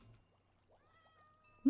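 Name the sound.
cat meowing in Minecraft video game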